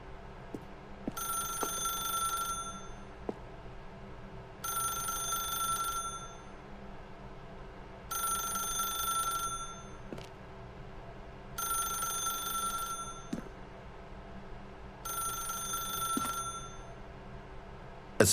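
A telephone rings in the video game The Stanley Parable, with five evenly spaced bursts of bright bell ringing separated by quiet gaps, set against a faint low hum and occasional soft clicks.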